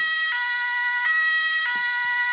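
A wailing electronic siren with stepped, repeating tones, loud and close, from a Märklin 36793 model train locomotive cycling through its pattern.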